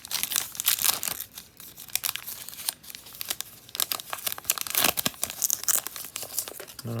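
Foil wrapper of a Pokémon Perfect Order booster pack being crinkled and torn open, a run of sharp crackling rips and crumples close up with short pauses between bursts.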